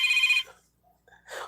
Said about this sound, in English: I am getting back-to-back phone calls.